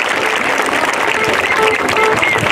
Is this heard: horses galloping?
no